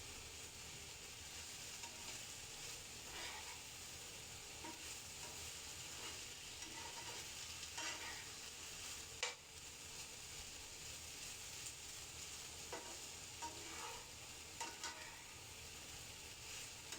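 Okra frying in a pan over medium to low heat, a quiet continuous sizzle with occasional soft scrapes as it is stirred, plus one sharper clink midway.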